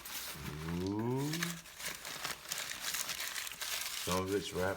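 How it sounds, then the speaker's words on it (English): Paper wrapping crinkles and rustles close by as it is pulled off telescope filters, with a person talking over the start and end. "Some of it's wrapped in paper."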